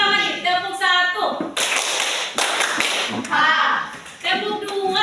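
Children in a classroom clap hands in a counting game led by a teacher, with two loud bursts of crowded clapping separated by the adult's talking.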